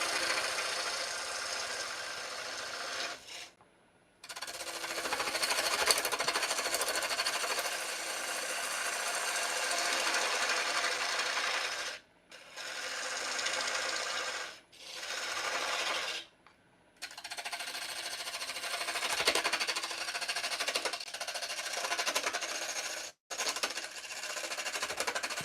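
Lathe turning a wooden bottle opener handle, a loud continuous scraping and whirring of the tool cutting the spinning wood, broken by several short pauses where the cut stops, with no talking.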